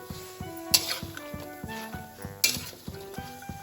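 Coconut and spices fry in a pan while a metal spoon stirs them, making repeated clinks and scrapes against the pan in a steady rhythm over a soft sizzle, close by.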